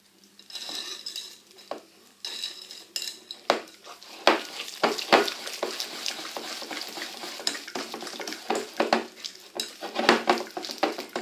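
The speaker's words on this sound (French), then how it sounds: "On va mélanger tout ça dans un premier temps" Homemade apple fritter batter with baking powder and oil being mixed in a bowl, heard as close, irregular scraping and clinking of a utensil against the dish, with bursts of stirring and no talking.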